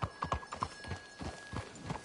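Horse hooves clip-clop in a steady, fairly quick rhythm within a Western-themed video game, close and moderately loud, with several distinct hoofbeats over roughly two seconds and no talk.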